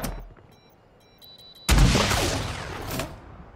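Call of Duty gunfire: after a quiet start with faint clicks, a sudden loud blast bursts in and leaves a dense, rumbling roar of shots that slowly fades.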